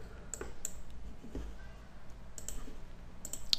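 A few crisp mouse clicks press the run button on a computer, sparse and close, standing out sharply over a faint, steady room hum; no talking.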